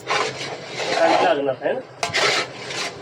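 Kolhapuri kharda masala for vada pav being stirred in a pan, loud close scraping and rasping strokes with a brief clatter partway through.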